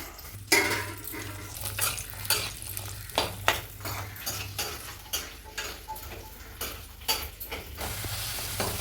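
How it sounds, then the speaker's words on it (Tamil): Garlic sautéing in a pan for a Tamil-style garlic pickle until it turns brownish, a steady sizzle broken by frequent scrapes and clinks of a spoon stirring against the pan. "பூண்டு வந்துட்டு ப்ரௌனிஷாக வந்துட்டு நல்லா வதக்கியாச்சு"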